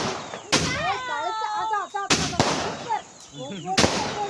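Diwali firecrackers burst with several sharp, loud cracks spaced over a few seconds, close by, while people talk and exclaim excitedly between the bangs.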